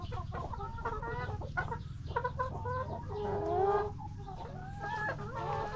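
Free-range chickens on a rural farm in Laos cluck and murmur nearby, a busy, overlapping chatter of hens with one brief louder call.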